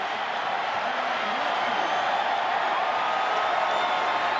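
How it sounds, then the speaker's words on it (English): A football stadium crowd at a December Packers vs Vikings game cheers as a broad, steady roar that holds at an even level throughout, without distinct peaks. "Crowd's cheering, but we'll wait to get the call."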